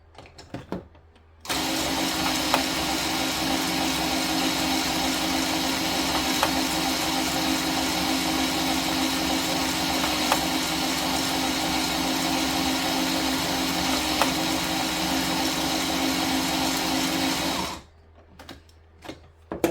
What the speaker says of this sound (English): Let's try a few rows here with my screwdriver attachment and see how it does there.